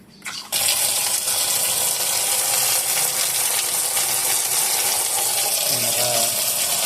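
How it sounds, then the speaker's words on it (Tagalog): Water rushes steadily into a washing machine drum after a coin blocking the drain was removed, starting abruptly and then holding at a loud, even hiss with faint clatter near the end. "habang naglalagay tayo ng tubig"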